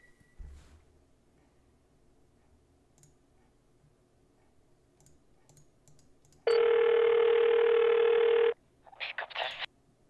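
In the video game Counter Terrorist Agency, a telephone rings in one long, loud electronic tone, then gives a few short clicks. Only faint background sound comes before it.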